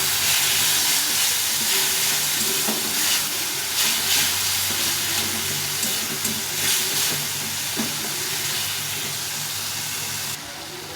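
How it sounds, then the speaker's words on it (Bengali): Spice paste frying in a pan with tomato gives a steady, loud, close sizzle and hiss, with stirring scrapes over it, and the sound drops slightly near the end. "এই মশলাটা গুলে রেখেছিলাম এতে দিয়ে দেবো দিয়ে এটাকে ভালো করে কষিয়ে নেবে"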